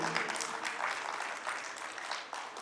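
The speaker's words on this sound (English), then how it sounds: "give them a rocking clapping" A hall full of people claps steadily for award recipients at a school annual function, a continuous, bright patter of many hands that holds at an even level before easing slightly near the end.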